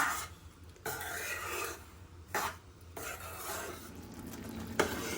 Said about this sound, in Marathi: पाक तयार करताना सतत हलवत राहायचं आहे